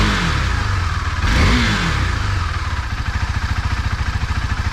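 A KTM Duke 390 single-cylinder motorcycle engine, warmed up, gives a quick loud throttle blip close by, then settles into a steady, lumpy idle with a rhythmic thumping pulse.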